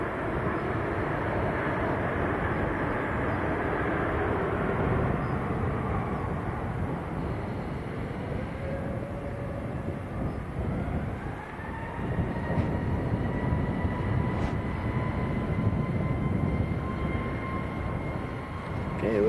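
An EasyJet airliner bound for Hurghada roars at Manchester Airport with a broad, steady engine rumble. Midway a rising whine settles into a sustained tone, which suggests the engines spooling up.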